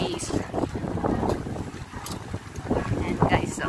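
Strong wind buffets the microphone at a wakeboarding area on stormy, bad-weather day, a steady rushing roar with gusts, and water and boat noise mixed in beneath faint voices.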